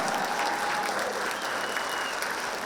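A seated audience at a county government address applauds continuously, a thick, even patter of many hands clapping with a faint voice briefly audible beneath.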